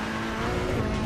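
A BMW race car in Assetto Corsa Competizione strains uphill, its engine droning loud and steady with a sustained tonal whine throughout, no voices over it.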